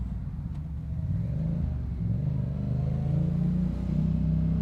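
Yamaha MT-07 motorcycle engine running close by at a low, steady rumbling idle, with mild swells in pitch that suggest gentle revving and no voices.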